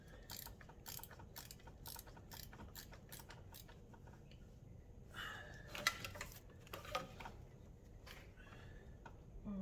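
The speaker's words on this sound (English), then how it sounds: "I've got a bolt down there to undo as well" A ratchet undoes a bolt on an Alfa Romeo Brera during a coolant leak repair, with a fast run of quiet, close, regular clicks followed by scattered metallic clanks and knocks.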